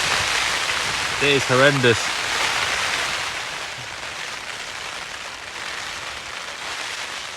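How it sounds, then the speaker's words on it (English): Heavy storm rain drums steadily on a tent surface close overhead during wild camping, a dense constant patter; a voice briefly speaks early on. "listen to that rain. It's absolutely persisting it down."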